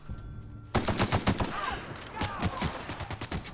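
A player's gun fires in The Outer Worlds, a fast burst of close, loud shots that taper into scattered reports.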